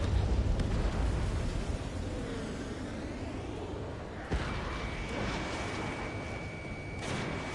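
An enemy UAV explodes in the Ace Combat 7 air-combat video game, a loud rumbling blast over steady jet roar, followed by a sharp crack midway and a high sustained tone.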